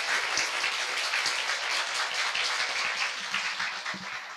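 An audience at a Korean talk event bursts into sustained applause, a loud, dense wash of many hands that holds steady and then eases slightly toward the end, with no talking over it.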